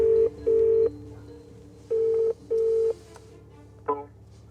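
Telephone keypad tones ring out as a mobile number is dialed at the entrance gates of an 800-year-old Scottish castle, four steady beeps in two pairs followed by a short blip, loud and clear with no talking.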